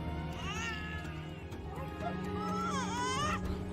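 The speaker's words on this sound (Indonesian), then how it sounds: "Kok malah suara bayi sih?" Baby sounds come through a phone call, a high wavering crying and whimpering voice that rises and falls in several long wails, close and fairly loud.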